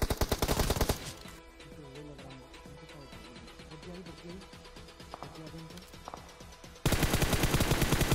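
Rapid automatic gunfire in the battle royale game BGMI, loud dense bursts at the start and end with quieter shots in between, under a voice speaking.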